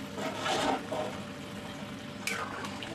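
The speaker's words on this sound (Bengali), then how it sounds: "তো এবার আমি একটু জল দিয়ে দেব" Water pours into a pan of potatoes cooking in a masala, a brief rushing splash that swells early on and then tapers into a softer trickle, close by and fairly quiet.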